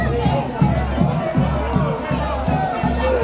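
Crowd noise from Cianorte football supporters protesting in a stadium after a 4-0 home defeat to Coritiba, a steady broad roar with rhythmic surges of chanting or banging repeating about every half second.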